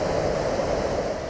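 Roaring waterfall with fifty metres of falling water, a dense, steady rushing wash of noise heard briefly and alone.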